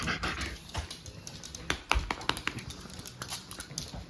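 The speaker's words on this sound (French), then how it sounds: "C'est sympathique, hein, ce chien?" A dog moves about nearby with panting, soft whimpers and claws tapping on a hard floor, over a steady background hum.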